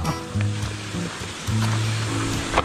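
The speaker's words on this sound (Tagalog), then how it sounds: "Naririnig na namin mga kabrando ang lagaslas ng tubig." Water rushes steadily at Hugasan waterfall in Caloocan, Talisay, Batangas, a continuous broadband roar heard nearby with a low droning hum running through it.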